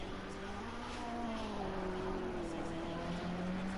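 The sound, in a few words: Ferrari race car onboard approaching the decline at Bathurst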